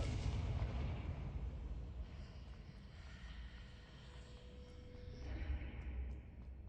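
A Confringo fire spell explodes in Hogwarts Legacy, a fairly faint, sustained rumbling burst with crackling that swells again near the end, with no voices.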